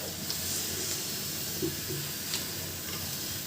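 Chopped spinach dropped into a pan of frying potatoes hisses in a continuous, close sizzle with faint stirring scrapes and soft pops throughout.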